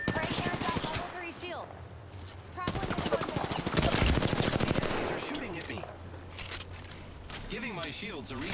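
Rapid automatic gunfire from enemies in a video game shooter, repeated bursts of loud cracking shots mixed with clanks and other game effects, continuing throughout with a voice talking over it.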